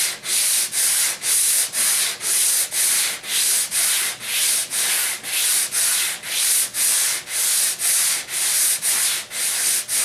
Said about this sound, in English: I can actually see the sandpaper on the surface, and we're almost done radiusing this board.